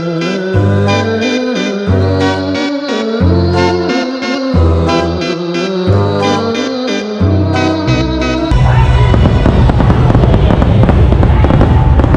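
Fireworks at the Disneyland Halloween show burst loudly in a dense, crackling barrage near the end, following a stretch of loud rhythmic show music with no talking.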